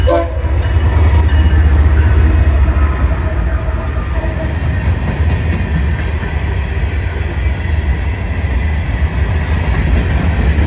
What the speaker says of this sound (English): this empty BNSF rock train begins to summit the climb out of downtown Dallas